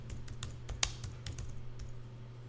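Short burst of keyboard typing into a search field in Adobe Photoshop, a quick run of light key clicks with one sharper tap, close and quiet over a low hum.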